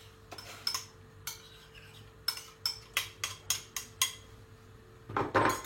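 A spoon clinks and scrapes against a pot while garlic purée is stirred into tomato soup, giving a run of evenly spaced metallic taps, close and fairly quiet, ending in a louder clatter.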